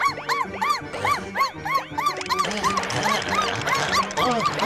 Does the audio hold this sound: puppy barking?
yes